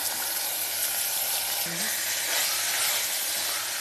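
Minced mutton keema is tipped into a pan of softened onion, tomato and coriander leaves, giving a steady, even frying hiss and sizzle at moderate loudness, with no clear voices.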